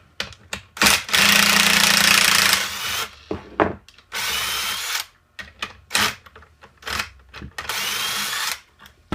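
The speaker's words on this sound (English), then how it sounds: "switch over my drill to a socket here so that I can take this bolt out" A cordless drill fitted with a socket spins a bolt out of a homemade Foreman-style pocket-hole machine, sounding in several loud whirring bursts of varying length separated by short clicks and pauses, with no speech.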